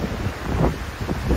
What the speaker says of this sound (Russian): сильный ветер не прекращается